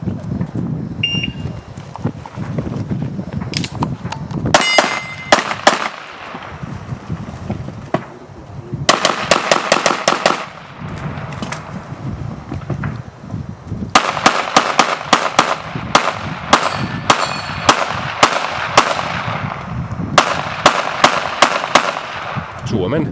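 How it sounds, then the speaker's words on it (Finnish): Pistol shots crack out in rapid bursts at a practical shooting competition stage, sharp close reports coming in quick clusters separated by short pauses, with spoken voices between some strings. "Suomen ylivoimaisesti parhaan pistooliampujan suoritus pistoolirastilta"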